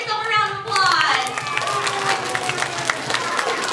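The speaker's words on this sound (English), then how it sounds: "Give yourself a round of applause." Elementary school assembly crowd bursting into applause after a chant, with children's voices and cheers mixed into brisk, close clapping that starts abruptly and continues.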